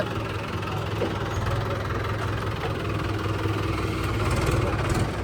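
A tractor engine idles close by, a constant low rumble with a faint rhythmic knock throughout.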